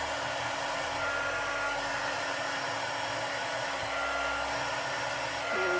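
A heat tool blows steadily and close by, melting wax on a stamped candle, its even whooshing airflow continuing without a break throughout.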